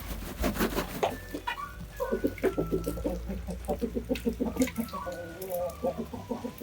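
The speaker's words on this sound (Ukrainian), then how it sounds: "Дав зерна когутам, а трошки розсипав, пішли кури їсти" Amrox chickens cluck in a busy, steady stream of short, rhythmic calls while eating scattered grain, fairly close, with a few louder squawks mixed in and no talking.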